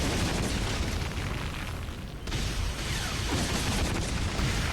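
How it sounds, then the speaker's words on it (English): Grenade launcher blasts in Metal Gear Solid 5: The Phantom Pain during a fight against the Man on Fire, a continuous rumbling wash of booms with a brief dip midway, no talk. "I recommend using like a grenade launcher and just keep firing the grenade launcher"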